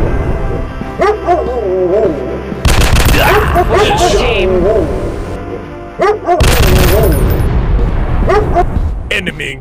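Gunfire in an FPS shooting survival mobile game on Android: repeated sharp shot bursts and booms, some rapid, loud and close, mixed with game voice lines and music throughout.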